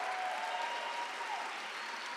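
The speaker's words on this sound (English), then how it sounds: "Let's give one big round of applause to all of our high school musicians this afternoon." An audience at a high school band concert applauds its young musicians, a steady, dense wash of clapping filling a large hall, moderately loud and even throughout with no speech.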